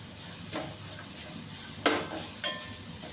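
Carrot stir-fries in a pan with a soft background sizzle, broken by a few sharp scrapes and clinks of a spatula against the pan.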